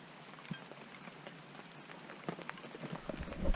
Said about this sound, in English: Pouring with rain and we're outside cooking.